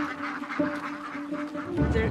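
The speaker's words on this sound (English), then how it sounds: "There are close to 100 ducks" Ducks quacking on a poultry farm that also keeps chickens, turkeys and geese, a close, busy chorus of repeated quacks and honks with no one talking.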